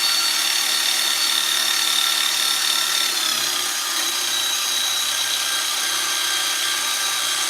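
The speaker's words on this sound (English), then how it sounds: "Let me just clean it real quick with the drill one more time," A continuous high-pitched power-drill whir with a scraping, rubbing texture runs steadily without pause while cleaning a tool.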